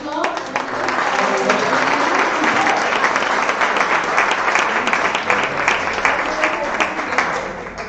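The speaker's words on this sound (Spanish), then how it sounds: "yo creo que se merece un fuerte aplauso." Audience applause during a regional primary election debate in Alicante, a dense, loud and sustained round of clapping from the room that holds steady for about eight seconds before tapering slightly.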